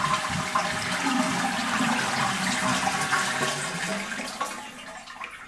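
A Caroma Duoflo dual-flush toilet empties its tank in one loud, close, continuous rushing flush that fades slightly toward the end, with gurgling water and no voices.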